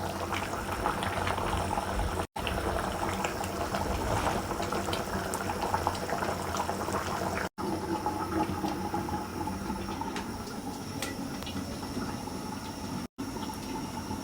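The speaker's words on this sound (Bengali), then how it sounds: "তরকারি মোটামুটি বলক এসে গেছে।" Chicken curry bubbles at a steady rolling boil in a pot, a dense continuous gurgle and hiss held close and fairly loud, broken only by a few brief cuts, with no voices over it.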